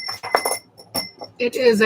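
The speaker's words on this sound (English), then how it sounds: "Look at this wind chime." Glass stones in a flamingo-shaped wind chime clink together in a few bright, close taps, with a person talking over and between the chimes.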